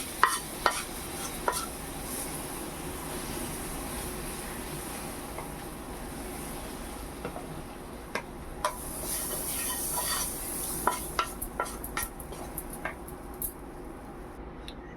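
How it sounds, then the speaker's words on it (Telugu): Tempering is poured into tamarind-leaf chutney and stirred, giving a soft continuous sizzle with scattered scraping and clinking stirs, close but fairly quiet, with no talking. "ఈ తాలింపు దీంట్లో వేసేసుకోండి"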